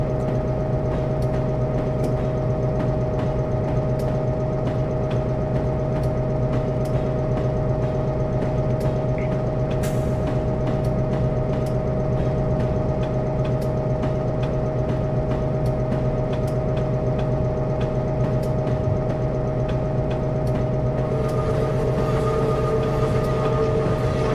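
A steady diesel drone from an EMD F7 locomotive on the B&O Mountain Subdivision in Train Simulator, humming continuously as it holds speed, with a faint shift in tone near the end and no talking.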